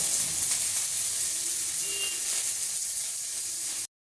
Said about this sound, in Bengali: এখন বন্ধুরা পেঁয়াজ যখন এরকম ভাজি হয়ে গেছে